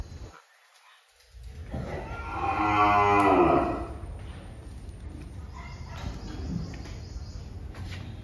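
A six-month-old calf at a cattle sale lets out one loud, drawn-out moo close by, rising and fading over a couple of seconds against a low background hum.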